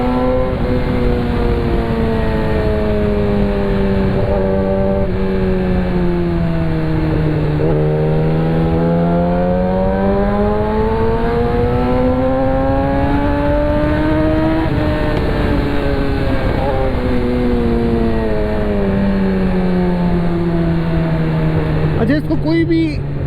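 Yamaha R6 600cc sport motorcycle being ridden, its engine note loud and close, rising and falling steadily as the rider works through the revs, with brief speech near the end.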